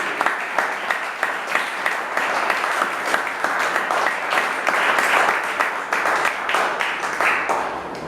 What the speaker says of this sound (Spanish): Levante la mano y denle un aplauso fuerte a Dios